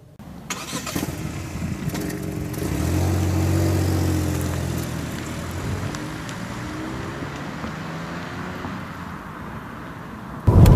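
A 2018 Ford Focus 1.0 EcoBoost three-cylinder petrol engine starts and settles into a low, steady hum while driving, heard from inside the car, smooth and fairly quiet with a brief louder burst at the end.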